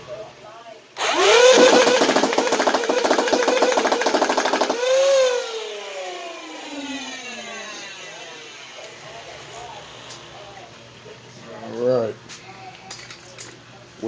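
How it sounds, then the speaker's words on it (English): A tuned Nerf Hyperfire blaster with its stock pusher motor fires in a rapid continuous burst, giving a loud whirring mechanical rattle that spins down afterward. Someone talks over the later part. "So I'm just going to empty it, let you see the rate of fire"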